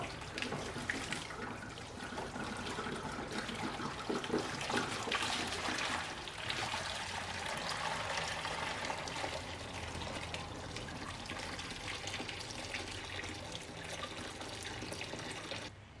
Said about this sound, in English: we are going to drain out all the tap water and put in proper coolant